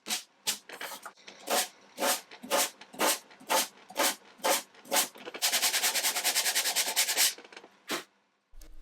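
Wood veneer on an Art Deco chest of drawers being sanded: a string of short rhythmic scraping strokes, then a longer sustained stretch of continuous rubbing, close and clear.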